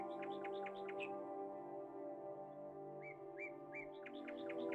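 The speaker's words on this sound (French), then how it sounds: "vous pouvez entendre le chant des oiseaux" Birds chirp and tweet in quick repeated phrases, with short pauses between bursts, over a soft steady hum.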